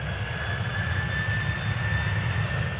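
A Boeing 737 jet airliner at Schiphol Airport gives off a steady, droning engine roar with thin tonal whines layered above, constant and moderately close.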